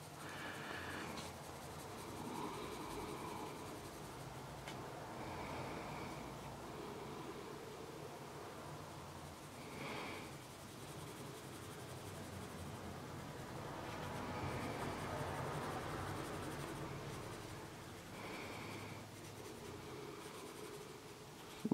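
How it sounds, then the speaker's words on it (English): Arteza Expert colored pencils swatched on paper, a soft, steady scratchy scribbling close up, continuous with faint rhythmic strokes and no talking. "I just keep swatching these"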